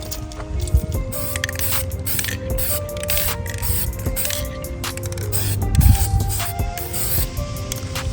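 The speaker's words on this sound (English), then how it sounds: "This is looking pretty good. Nice and matte black." Matte black spray paint hissing from an aerosol can onto a Honda Grom motorcycle exhaust, several close bursts of spray with short gaps between them.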